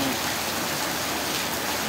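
Heavy rain pours down during a typhoon with strong wind, a dense, even roar of water hitting surfaces that fills the whole short stretch.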